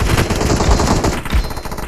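Rapid automatic gunfire from a team-based shooting video game, loud and dense bursts crackling continuously with heavy low thumps throughout, no voices over it.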